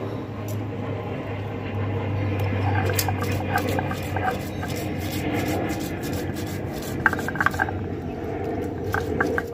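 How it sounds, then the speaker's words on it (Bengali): Fennel, cumin and other spices are ground together into a paste on a stone, giving a steady close rubbing and rasping scrape with light clicks and taps scattered throughout. "এবার একসাথে এই সব কটা বেটে নেব।"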